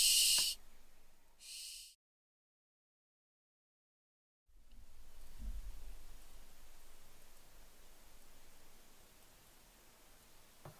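Two loud rasping screeches from barn owl chicks calling for their parents, close and harsh, followed by silence and then a soft steady hiss of background noise.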